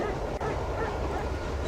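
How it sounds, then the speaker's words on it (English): A dog named in The Last Express video game barks faintly in the distance over steady rumbling noise from a train. "I can hear him barking."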